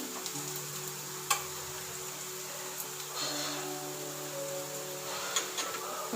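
Garlic, ginger and onion frying in a pan give a soft, even sizzle close by, with a few light clicks and taps from the utensil scattered through it and no voice.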